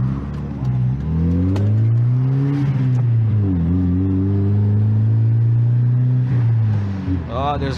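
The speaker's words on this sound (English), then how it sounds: "Oh, there's cars." Several cars pass close by on a road on a busy Sunday, their engines rising and falling in loud, steady whooshes, with a strong low rumble running throughout and a sharper pass near the end.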